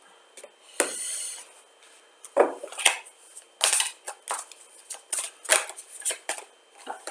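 A deck of cards cut and shuffled by hand during a card reading, heard as a series of crisp riffling bursts and sharp slaps at an irregular pace against a quiet background.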